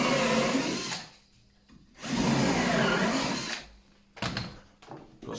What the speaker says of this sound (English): all you need to do is screw them into the main frame